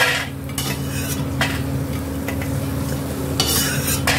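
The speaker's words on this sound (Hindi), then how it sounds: "ये इस तरह से मैंने तेल बड़ी को लाल लाल भून लिया" Dried lentil dumplings (vadi) fry in a little oil in a kadhai. Close, loud stirring and scraping runs over a steady sizzle, with a few sharper clinks of the spoon against the pan.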